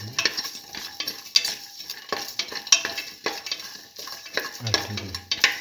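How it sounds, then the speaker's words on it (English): A spoon stirs and scrapes a tomato and split pigeon pea mixture sautéing in a pan, giving steady, close clinks and scrapes over a soft sizzle, with no voices. "Thoroughly saute and mix. Saute and mix thoroughly"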